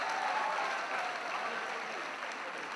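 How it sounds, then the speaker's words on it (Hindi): An audience at a stand-up comedy show claps, a dense, even patter of many hands heard faintly and steadily throughout. "ताली बजानी पड़ती है।"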